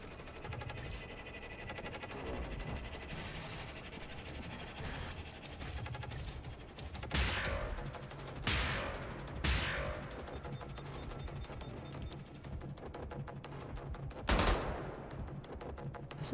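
Burst-fire shots in Wolfenstein: The New Order, in the Berlin catacombs: a few sharp, separated bursts ring out over a steady low game ambience, with no talk.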